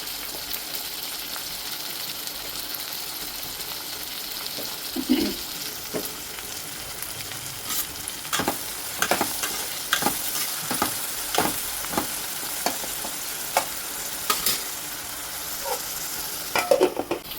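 Small garden tomatoes and onions fry in a pan with salt, a steady close sizzle running throughout, broken by occasional scraping stir strokes and soft clicks from the utensil.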